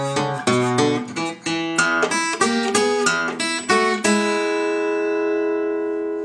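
Boogie woogie ending on acoustic blues guitar: a run of rhythmic plucked notes and chords, closing on a ringing final chord that fades out.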